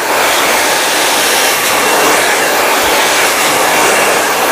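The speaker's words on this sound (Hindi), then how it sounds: "तो मैं इसको ब्लो ड्राई भी कर लेता हूँ साथ साथ।" A hair dryer blows steadily while mannequin hair is blow-dried straight, a loud, close, continuous broadband whoosh with no breaks and no talking.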